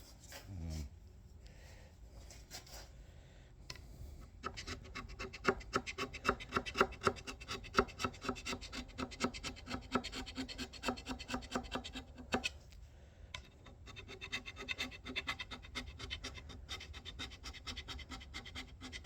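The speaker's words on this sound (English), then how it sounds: "So I will show you a scraping a pass." Hand scraping on a metal dovetail slide with a scraper blade: a quiet start, then steady rhythmic rasping strokes repeat quickly and close by for most of the clip, with a brief pause near the end before the strokes resume.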